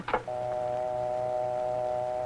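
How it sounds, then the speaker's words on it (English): A telephone dial tone from a dial telephone line: after a brief click, a steady, continuous hum holds unbroken and fairly loud to the end, with no voices. "you'll hear the dial tone"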